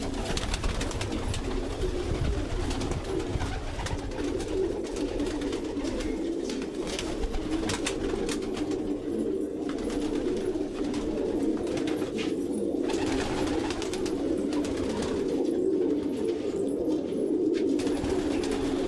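A loft of around 135 pigeons keeps up a continuous, dense murmur of overlapping coos and wing rustles for the whole stretch, close and steady, with no talk.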